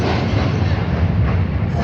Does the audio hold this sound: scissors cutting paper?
no